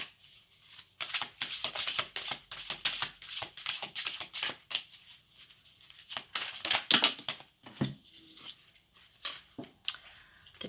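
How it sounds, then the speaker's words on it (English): Tarot cards shuffled and drawn during a reading, a long run of crisp, rapid riffling flicks and slaps up close with brief pauses between bursts, no voices. "Let's get a couple more cards here to clarify."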